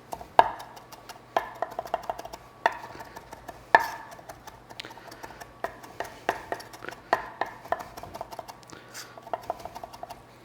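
A kitchen knife rocks and chops on a cutting board, a quiet series of sharp taps at an uneven, roughly steady pace with no talking.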